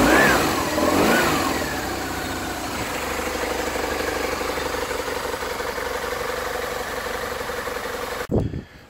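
A moped engine runs steadily at close range, with a couple of revving swells at the start, then holds a buzzing idle for several seconds before cutting off abruptly near the end.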